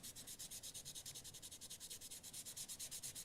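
Hand sanding of a scratch-built side skirt on a 1962 Chevrolet Bel Air custom: close, steady rhythmic back-and-forth rasping strokes, about six per second, continuous and alone.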